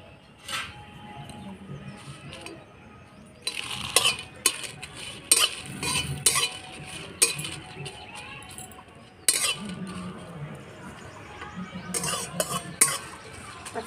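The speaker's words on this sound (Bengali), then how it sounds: "প্রথমে শুকনো লঙ্কাগুলো ভেজে নেব" Dried red chillies are dry-roasted in an empty pan on a lit stove while making jujube pickle, with bursts of scraping and stirring, light metallic clinks, and quieter stretches between the bursts.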